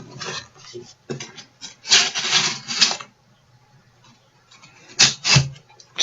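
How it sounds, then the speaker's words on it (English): A knife blade drawn through packing tape on a cardboard box, giving several short raspy rubbing strokes in bursts separated by brief pauses, close and fairly loud. "Slide right through the tape."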